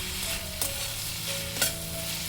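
Tomato and onion with salt frying in a pan on medium flame, a steady close sizzle broken by two brief scraping stirs of the spoon, no voices.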